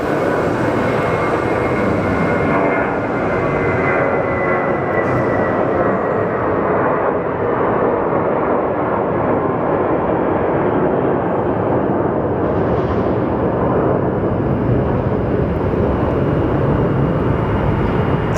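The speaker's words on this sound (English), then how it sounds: "You will see the difference in how loud each plane is." Large jet airliners, a 787 and a 767, roar at Phoenix Sky Harbor Airport, a loud, continuous broadband engine rumble sustained throughout with slight swells as the aircraft move.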